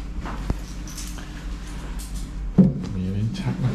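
A wardrobe door in a new hotel room in Nakhon Si Thammarat opens with a clack and a short wooden rattle, while someone talks close by before and after.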